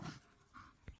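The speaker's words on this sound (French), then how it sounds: "Eh les chiens là, on s'entend plus." Dogs pant and whimper close by in a short, breathy burst, with a louder huff near the end, heard over a quiet indoor background.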